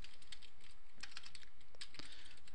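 Typing on a computer keyboard during data entry in statistics software, a steady run of quick close key clicks with no talking.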